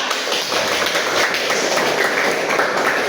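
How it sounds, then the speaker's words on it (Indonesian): A classroom applauds group 4 during a basic coding lesson on algorithms, with steady, dense clapping from many students that runs unbroken for about three seconds and no talking over it. "tepuk tangan untuk kelompok 4"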